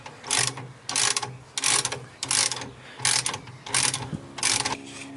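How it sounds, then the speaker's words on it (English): A ratchet wrench loosens the 9/16 U-bolt nuts on the rear leaf-spring suspension of a 1968 MGC, with six bursts of quick clicking ratcheting, fairly faint and close, separated by short gaps. "the next step is to remove the 4 nuts that can hold the U-bolts onto the spring assembly"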